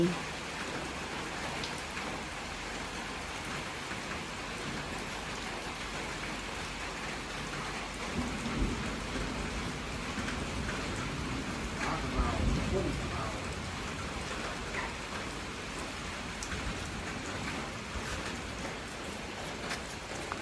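Steady rain pours down with a constant hiss, and faint low rumbles of thunder swell briefly in the middle.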